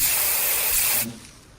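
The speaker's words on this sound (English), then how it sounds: "Why are you spraying your can here?" A short, loud hiss of an aerosol spray can for about a second, then it cuts off leaving faint background noise.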